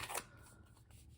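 A deck of tarot and oracle cards being cut and shuffled, a short soft riffle of cards, close and quiet.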